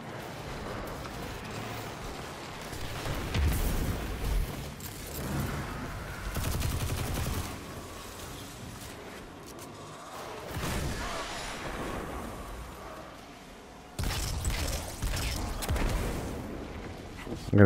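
Video game gunfire in Destiny 2, with bursts of rapid shots and heavier booming blasts coming in waves amid game effects, loud and continuous across the stretch.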